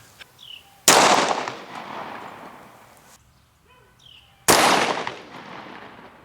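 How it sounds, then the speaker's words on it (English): Two loud .45 ACP pistol shots from a Springfield Armory Punisher 1911 firing Winchester 230 grain ammunition, each a sharp crack with a long ringing decay, spaced a few seconds apart outdoors. "We're going to shoot it out of our nifty little Springfield Armory Punisher 1911."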